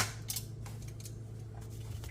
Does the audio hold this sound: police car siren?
no